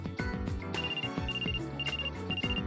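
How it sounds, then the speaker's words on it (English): A telephone rings in the video game Trauma Center: Second Opinion, a repeated electronic ringtone of bright trilling bursts over a steady musical background, with no talking. "Phone call."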